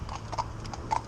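A Lipizzaner horse walking without a rein gives a short run of steady clip-clop hoofbeats, close and clear over faint outdoor background.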